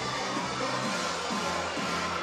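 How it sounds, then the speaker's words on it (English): Crowd cheering at a Cage Warriors MMA event at the O2 Academy in Bournemouth, a dense, continuous roar of voices filling the venue, loud and sustained without a clear break. "the crowd here at the O2 Academy in Bournemouth showing their appreciation"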